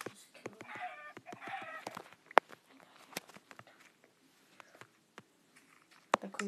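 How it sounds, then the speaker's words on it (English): Chicken clucks from a Minecraft-style video game, several short bursts early on among scattered clicks and taps, fairly faint, with a little talk nearby. "What's the chicken in here?"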